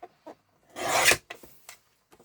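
Cardstock being cut for a handmade card: one close, rasping slice lasting about half a second, with a few small taps and rustles before and after, no speech.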